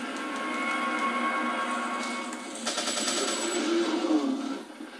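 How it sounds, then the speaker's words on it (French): Rapid gunfire in Resident Evil 4, a steady dense burst of game shots and clatter running through the whole stretch, loud and continuous with a short swell near the end, no talk over it. "Alors j'ai tiré quelques munitions"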